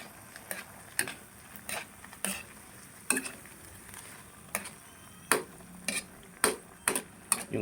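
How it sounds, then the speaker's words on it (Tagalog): Gizzards stirred in a cooking pot with a utensil, giving sharp, irregular scrapes and knocks against the pot at close range, spaced every half second or so over a faint sizzling bed, with no talk. "Atin pong haluin."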